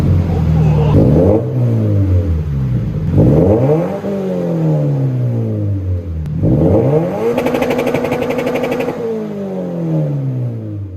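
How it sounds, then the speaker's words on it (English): Toyota 86 (first generation) fitted with a Remark dual-exit axle-back exhaust with no mufflers, revving repeatedly: loud, rising-and-falling engine sweeps up close, with a sharper, crackling high-rev burst near the end. "This is the Remark Axleback for the first generation 86"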